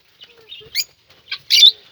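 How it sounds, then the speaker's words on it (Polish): Small lovebirds give short, high chirps in a quiet room, a few sparse calls with a brief flutter of wings between them, close and clear. "i pokażę Wam małe nierozłączki"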